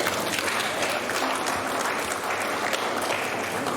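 A steady wash of audience clapping fills a secondary school final assembly hall at the end of the school year, sustained and even throughout with no voices standing out.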